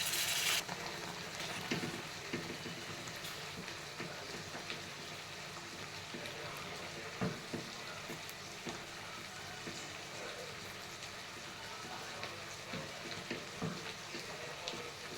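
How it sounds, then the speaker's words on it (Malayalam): Paneer pieces roasting in a pan give a steady, moderately loud frying sizzle, with small scrapes and clicks of stirring scattered through and no talk. "ആദ്യമേ റോസ്റ്റ് ചെയ്യുന്നത് ഇത് പനീർ പൊടിഞ്ഞു പോകാതിരിക്കാൻ വേണ്ടിയിട്ടാണ്."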